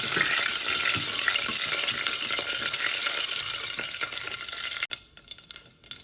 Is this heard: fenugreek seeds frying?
yes